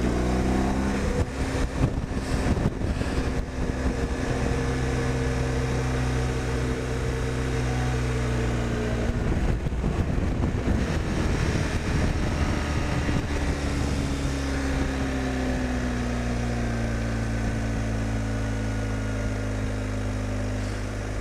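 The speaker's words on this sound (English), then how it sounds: "The boxer engine is so nice for coming down these kinds of roads." Motorcycle with a boxer engine on Dunlop Mutant tyres rides down a road, a continuous loud engine drone with shifting pitch and rushing wind, no talking.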